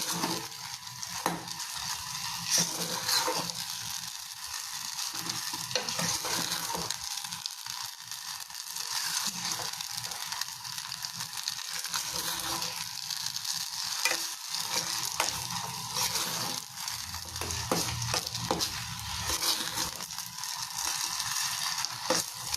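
Halwa being stirred as it fries in ghee: a continuous soft sizzle with rhythmic scraping and clinking of a spoon against the pan, close, steady and without talk.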